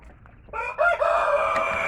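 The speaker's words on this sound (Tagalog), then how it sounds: "nagyayabang po siya dahil alam na binibidyohan siya huni pa uli" A pet rooster kept in a small backyard crows once, loud and close, the call rising after a brief soft cluck and holding strong to the end.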